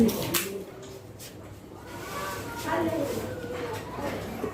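Fancy pigeons on a farm coo softly in low repeated murmurs beneath someone talking nearby, with faint background noise throughout.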